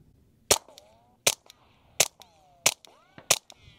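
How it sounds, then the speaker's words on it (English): Suppressed .22 rifle firing Federal standard-velocity rounds, five sharp cracking shots at a steady pace about three-quarters of a second apart, each with a short ringing tail, close and clear with no talking. "So I do have a 22 suppressor, and that is a lot of fun to shoot on here because it's extremely quiet."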